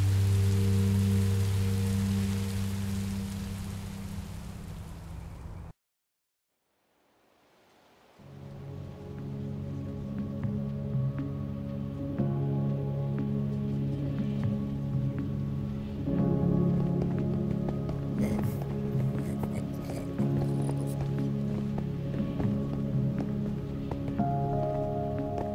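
Steady rain falls in the video game Minecraft: Story Mode, a dense, even hiss that cuts out briefly, then returns with a low hum and scattered drip-like taps beneath it.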